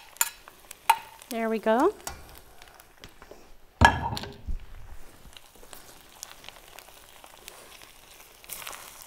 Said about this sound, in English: All we've done is saute some things.